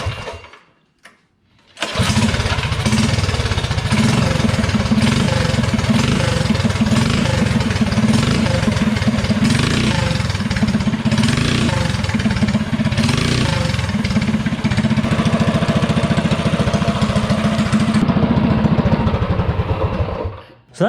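A small engine fitted with a VM22 Mikuni carburetor starts after a brief quiet moment, then runs steadily and loudly for nearly twenty seconds, with a constant chugging drone before cutting off.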